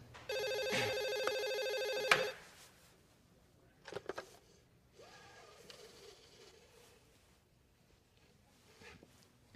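An old-style telephone bell rings loudly in one sustained burst, then stops, leaving a quiet room with faint movement and a gasp.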